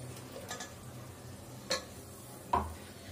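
Masala fried in oil with tomato puree is stirred for kofta curry. A faint low sizzle runs under a few sharp utensil knocks against the pan, with no speech.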